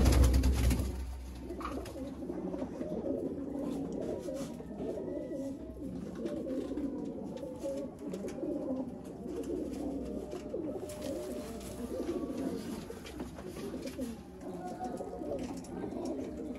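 Sialkoti and Kasuri cross-bred pigeons coo softly and repeatedly at close range, a low rolling murmur that carries on throughout with faint background noise.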